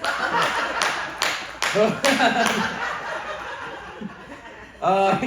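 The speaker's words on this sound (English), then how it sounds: "He clapped the loudest." An audience in Brights Grove, Ontario claps in a few sharp bursts, then laughter and chuckling take over, with another short burst of claps near the end and voices mixed throughout.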